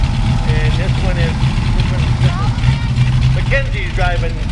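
A home-built John Deere tractor idles steadily at a tractor parade, its engine a continuous mid-pitched drone with faint higher squeaks over it.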